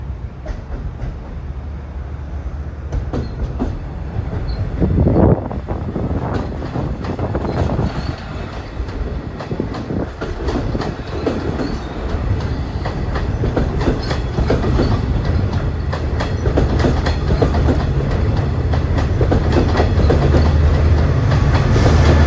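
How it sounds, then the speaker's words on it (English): A long Long Island Rail Road Montauk summer train hauled by a single diesel locomotive rolls past close by, with a steady rumble, repeated clickety-clack from the wheels on rail joints, and some wind buffeting that continues throughout. "It's got the longest train he could possibly have with one diesel engine."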